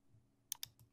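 A computer mouse clicking while working in QuickBooks accounting software: two sharp, close clicks in quick succession, then a fainter third, over a quiet room hum.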